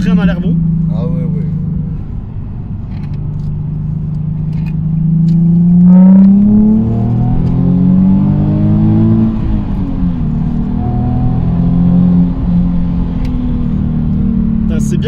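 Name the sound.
Nissan 370Z engine accelerating while driving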